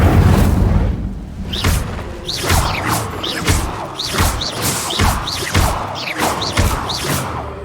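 The Incendio fire spell is cast repeatedly in Hogwarts Legacy, giving a series of whooshing, booming bursts with crackling flares, roughly evenly spaced and loud throughout.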